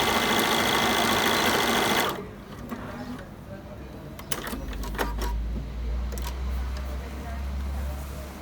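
A Bernina B540 sewing machine runs in a fast, steady whir as it stitches fabric, loud at first and then quieter with a low hum, with a few clicks and light handling noises.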